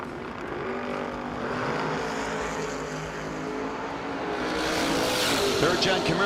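Drag race cars launching at a No-Box 660 shootout, a third-gen Camaro among them, engines roaring at a distance with a rising, building roar toward the end, crowd and announcer noise faintly underneath.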